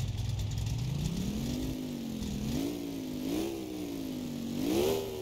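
A car engine running rough while backing up, its tone rising and falling through several moderate revs in a steady near drone with no talk.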